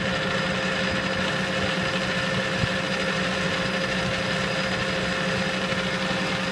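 A lathe turns at 800 RPM, taking a light cut on a Troy-Bilt rototiller shaft, a steady mechanical whir with a constant high whine and a faint tick partway through.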